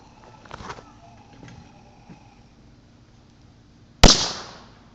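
Fireworks set off outdoors: faint rustles and small pops, then one sharp, loud bang followed by a hissing, fading tail.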